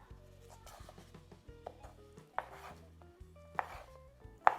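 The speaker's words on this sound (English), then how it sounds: "Then we're just going to cut it into small bite-sized pieces" A knife chops steak into very small bite-sized pieces on a board, a string of soft, fairly faint chops and taps under background music.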